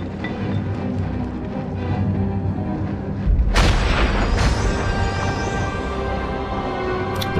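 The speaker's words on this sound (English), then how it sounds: "We've destroyed the Orb of the Undead." In the Baldur's Gate: Dark Alliance video game, the Orb of the Undead is destroyed with a heavy booming blast that bursts out midway and rumbles on under a dense, steady wash of game sound.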